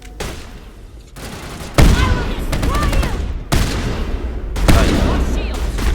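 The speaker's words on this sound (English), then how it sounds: "Shotgun time." Shotgun blasts in the Mass Effect video game during combat, several loud, sharp booms spaced a second or two apart, each trailing into noisy battle sounds.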